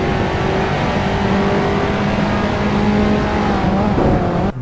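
Race cars lap Spa in Assetto Corsa with a loud, continuous high engine whine, steady revving that shifts pitch, close and sustained throughout.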